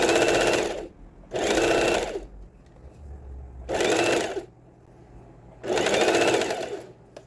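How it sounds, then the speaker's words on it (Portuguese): An overlock sewing machine stitches elastic onto a cropped bra, running in four loud, steady whirring bursts of about a second each, with quiet pauses between them. "A gente vai escondendo essa costura da overlock."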